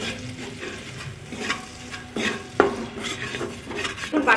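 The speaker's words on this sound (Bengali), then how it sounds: "বাটারের সঙ্গে আমি ময়দাটা ভালো করে মিশিয়ে নিয়েছি" Flour being stirred into melting butter in a pan: a spoon scrapes and knocks against the pan in repeated strokes over a faint sizzle, close and moderately quiet.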